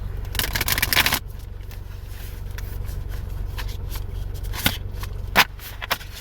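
Large tarot cards being shuffled close by, a dense riffling rustle at the start followed by softer handling and a few sharp snaps of cards.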